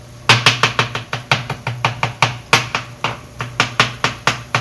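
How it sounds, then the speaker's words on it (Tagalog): A knife chops a cooked egg into small pieces on a cutting board, with rapid sharp rhythmic knocks close up, about twenty-five strikes in quick succession and no talking. "yung itlog mga ka-vlogs, i-chop-chop natin ng maliliit"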